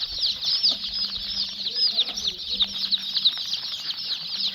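A crowd of young chicks kept together chirp continuously in a dense, shrill chorus close by, with a few soft flutters and faint low background noises underneath.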